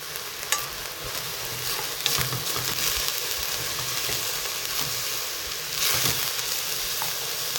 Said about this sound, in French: on va tout de suite placer notre viande hachée. On va bien mélanger et effriter comme si on allait faire une bolognaise